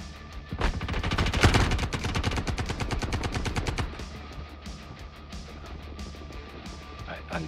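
Rapid bursts of automatic gunfire crackle in a Star Citizen firefight, dense and loud at first and then thinning into scattered, more distant shots, with people talking over the shooting.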